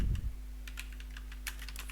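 Quiet clicking of fingers typing a file name on a computer keyboard, a quick irregular run of light key taps close by, with no talking.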